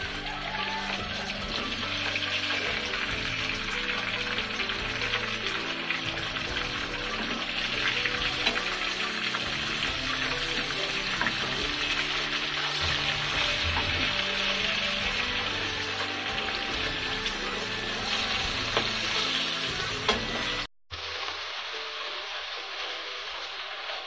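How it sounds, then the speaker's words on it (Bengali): Hilsa fish fry in a pan, giving a continuous close sizzle and crackle for about twenty seconds before it cuts to a quieter hiss. "মাছগুলো আমি হালকা ভেজে নেব।"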